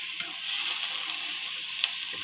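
A noodle mixture stirred in a hot pan for breakfast, giving a soft continuous sizzle with a few faint scraping clicks, close and brief.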